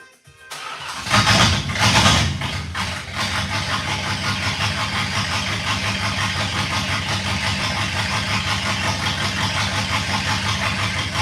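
A car engine with no muffler starts with a loud cranking roar, then settles into a harsh, raw, steady idle that runs loud and close.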